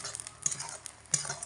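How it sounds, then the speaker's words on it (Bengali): Fried fish roe with chili powder is stirred in a pan, a faint sizzle under a couple of sharp spatula taps and light scraping, no voices. "মোটামুটি 30 সেকেন্ড মতো হালকা নাড়াচাড়া করে এটাকে নামিয়ে নেব"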